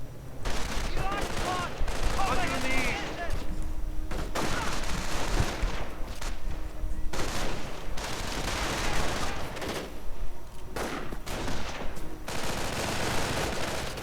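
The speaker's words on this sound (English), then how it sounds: "More sniper fire." Sniper and rifle gunfire in a WWII strategy video game, dense bursts of sharp shots and crackling volleys that come in clusters separated by brief quieter gaps, with someone talking over parts of it.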